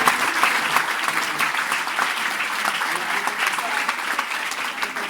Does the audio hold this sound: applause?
yes